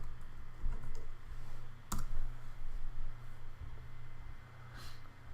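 A computer mouse clicks once, crisp and close, on a search bar while searching for podcasts, with a couple of faint lighter clicks around it over a low steady room hum.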